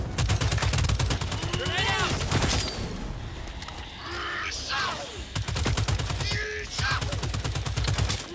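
Sniper rifle and other gunfire in the video game Left 4 Dino, heard as rapid, loud, repeated shots in two long bursts, with creature cries and squeals between them.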